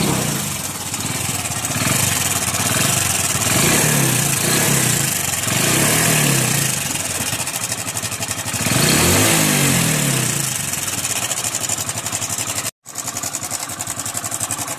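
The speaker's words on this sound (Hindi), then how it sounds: "तो मैं सबसे पहले आपको बाइक का इंजन का साउंड मैं आपको सुनाता हूँ।" A Hero iSmart 110 motorcycle engine with a timing chain problem, idling and revving close up, its steady mechanical clatter and rattle running throughout with a brief cutout near the end.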